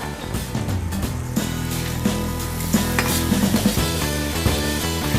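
Spicy chemmeen kanthari prawns hit a hot pan and sizzle loudly and steadily, with sustained tonal hums and clinks layered over the frying, and no talking.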